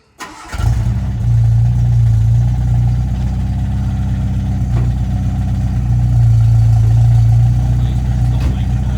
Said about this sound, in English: So first of all, start the car.